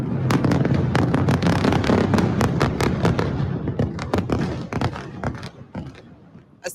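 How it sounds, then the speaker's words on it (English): A rapid barrage of loud, sharp booms and bangs from a bombardment on Beirut at sunset, densely overlapping at first, then thinning into scattered blasts over a constant rumbling roar. "As the sun set, the explosions rang out."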